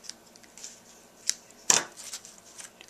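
Scissors snip the ends of a small tied ribbon bow while making a pocket card, a few faint light metallic clicks before one sharper, louder cut, close and without talk.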